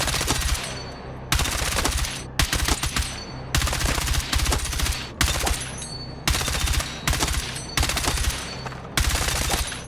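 An M4A1 rifle in Battlefield 6 fires close and loud in repeated full-auto bursts, each lasting about a second, separated by short pauses.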